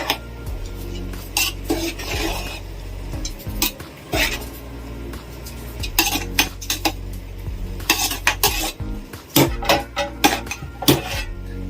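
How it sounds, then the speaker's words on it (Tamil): A spoon stirs mint and coriander through rice in a pot. Irregular scraping and clinking strokes come close by, with short pauses between bursts and no speech. "சேர்த்துட்டு கொஞ்சம் லைட்டா மிக்ஸ் பண்ணி விட்டுக்கலாம்."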